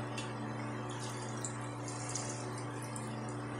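Water streams steadily into a container, two cups poured for a General Tso chicken sauce, a continuous splashing rush over a low steady hum, with no one speaking.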